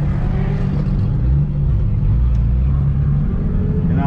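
A drift car engine idles as it warms up, a loud, steady low rumble running the whole time with no clear revving.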